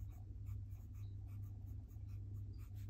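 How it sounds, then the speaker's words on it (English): A medium-nib fountain pen writes quickly on paper, giving soft, close scratchy strokes in a quick, irregular rhythm over a low steady background hum. "So I am going to write really quickly down here"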